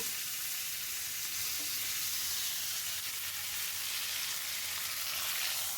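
Tempering of mustard seeds, chillies and curry leaves sizzling in hot oil for sambar, a dense continuous crackling hiss, close and steady with no talk.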